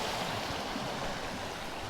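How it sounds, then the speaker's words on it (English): Creek water flowing steadily past ferns and moss near Lilydale Falls, Tasmania, a continuous close broadband rush with no break and no voices. "There's some very cute spots along this creek."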